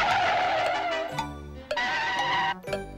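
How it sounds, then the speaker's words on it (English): Car brakes screeching in a few sharp bursts, loud and close, separated by brief pauses with no talking. "Screeching brakes."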